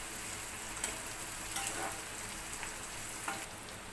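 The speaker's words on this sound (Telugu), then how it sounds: "ముందుగా కట్ చేసిన ఉల్లిపాయలను నూనెలో వేసి బాగా కలుపుకుందాం." Chopped onions fry in hot oil in a home kitchen, giving a steady, soft sizzle with a few stirring scrapes and crackles and no talking.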